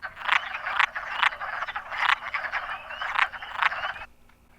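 Wood frogs calling in a spring woodland, a steady chorus of rapid, duck-like clucking croaks in repeated bursts, fairly close and continuous before fading to near quiet at the end.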